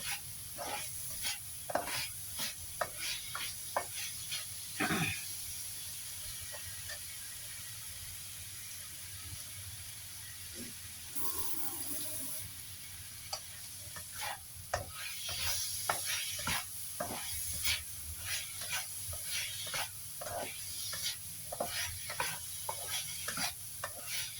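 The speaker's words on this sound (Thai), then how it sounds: "ผัดอีกหนึ่งนาทีจ้ะ" Pork filling for sago dumplings stir-fried in a pan, with a steady sizzle and frequent sharp scrapes and clacks of the spatula throughout, one louder knock near the start.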